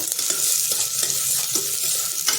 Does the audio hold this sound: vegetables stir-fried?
yes